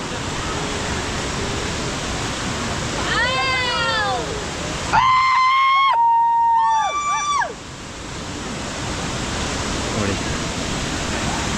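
A waterfall on the Nethravathi peak trek gives a steady, broad rushing roar throughout, with voices and whistled or sung tones rising over it midway.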